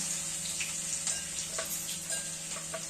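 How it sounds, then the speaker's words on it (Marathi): Cumin, mustard seeds and garlic sizzle in hot oil for a chickpea-flour pithla, a constant close hiss with small scattered pops and crackles throughout. No one speaks. "आता तेल गरम झालंय त्याच्यामध्ये आपण एक चमचा जिरं मोहरी टाकूया अजून लसूण आहे ना तो पण टाकून घेऊया"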